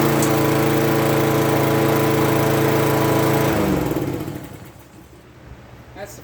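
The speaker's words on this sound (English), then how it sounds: "we'll start up the Toro just because it's here" A warm Toro 5-horsepower lawn mower engine runs loud and steady with a droning buzz, then is cut off and winds down to quiet around the four-second mark.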